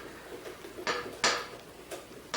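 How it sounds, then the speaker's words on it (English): Fish and chips batter is mixed in a bowl, with a few sharp clinks of utensil against bowl over quiet stirring, close and fairly soft. "Just mix it well,"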